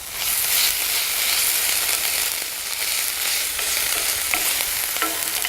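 Camping pasta being stirred in a hot pan with added seasoning, a steady close sizzle and frying hiss with scraping stir strokes running throughout, no voices.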